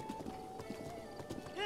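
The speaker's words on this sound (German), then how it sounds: "Yay, unser erstes Pferd." Horse hoofbeats in the video game The Legend of Zelda: Breath of the Wild, a quick run of rhythmic clip-clop steps on the first wild horse, with a voice talking over them.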